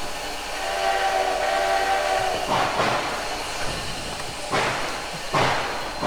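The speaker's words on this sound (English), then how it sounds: "Sound like they got some new chuff sounds for this start" An NP S-10 4-6-0 steam locomotive in Trainz 2019 pulling away with a few slow, heavy chuffs over a continuous hiss, the exhaust beats spaced out as it starts moving, with no voices.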